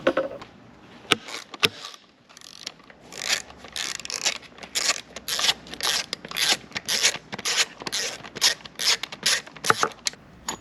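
Rapid, steady clicking of a ratchet with an extension working a bolt on a Yamaha 15 outboard motor, close and loud, in repeated bursts of back-and-forth strokes.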